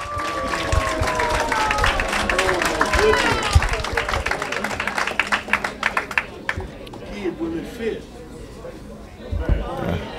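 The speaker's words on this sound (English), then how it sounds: "Can we get a round of applause?" A round of audience applause at an indoor event fills the first half with dense clapping, mixed with voices and chatter, then thins out into scattered claps and talk.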